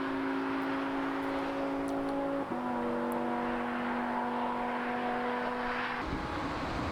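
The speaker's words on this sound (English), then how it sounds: "while all these cars are flying by" Supercars and superbikes speed past on the German Autobahn. A steady engine drone with sustained tones runs throughout, with a pass-by swell near the end, heard at a moderate distance and without any talking.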